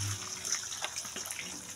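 Beaten egg is poured into hot cooking oil in a pan for an omelette, giving a steady close sizzle and hiss with faint liquid splashes and no talking.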